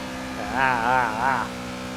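A race car engine in Project Cars revs up and down through a few quick, smooth pitch swells in the middle of the moment, sitting over a steady hum with no talking heard.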